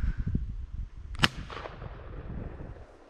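A single sharp report from a 14mm shotgun fired while hunting thrush outdoors, a loud close crack near the middle rising over rustling and handling noise, with no voices.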